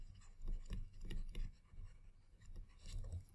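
Chalk or marker scratching across a board in short irregular strokes, close and fairly quiet, with no voice in between.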